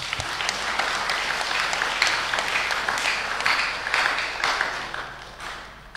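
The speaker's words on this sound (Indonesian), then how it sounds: "Sidang jemaat, mari kita beri tepuk tangan." Church congregation applause at a Sunday service: a fairly soft, even patter of many hands clapping, swelling slightly and then tapering off at the end.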